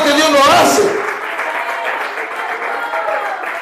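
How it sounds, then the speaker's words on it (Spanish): A church congregation claps in praise during a sermon, a loud burst of applause that quickly settles into a softer sustained patter of many hands, with a voice over it. "Dele palmas de alabanza al Señor."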